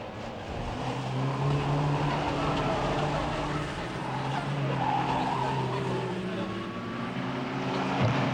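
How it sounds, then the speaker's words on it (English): Race cars circling a raceway track with a car skidding, steady engine drone and squealing tires at a moderate distance, under a continuous roar. "As we see 222 skidding across the line there."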